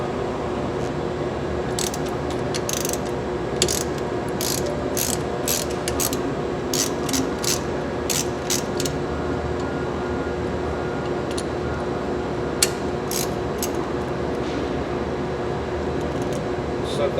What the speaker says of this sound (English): And now you can remove your protective cap from your hub and remove the grease zerk fitting.